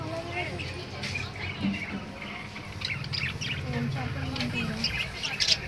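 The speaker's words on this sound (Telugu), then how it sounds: "పావురాలు అన్నీ ఉన్నాయి." Pigeons and other birds at a pet market chirp and call in brief bursts, close by, mixed with people talking throughout.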